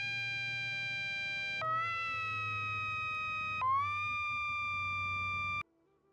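Electronic siren tone played through a game stream, a clean steady wail that steps up in pitch twice before cutting off abruptly, fairly quiet with no talking over it.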